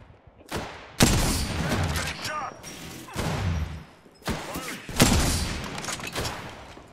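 Gunfire in Apex Legends, with a shotgun among the weapons, comes as several loud blasts and bursts spaced across the scene. Each booming hit trails into rumbling noise, and players talk over the shooting.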